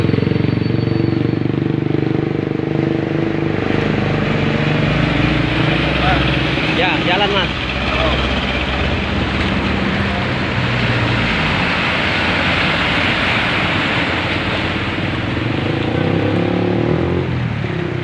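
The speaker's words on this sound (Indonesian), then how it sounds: "kendaraan roda 2 mencoba tancap gas supaya selamat dari genangan air ini" Motorcycles pushing through flood water on a city street after heavy overnight rain, engines droning and revving continuously under a steady wash of water and traffic noise, with people talking.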